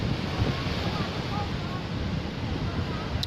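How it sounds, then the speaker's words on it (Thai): Strong wind buffets the microphone at Jomtien beach in Pattaya, a loud, steady roar with surf rumbling underneath throughout. "วันนี้เราอยู่ที่พัทยาหาดจอมเทียนลมแรงมาก"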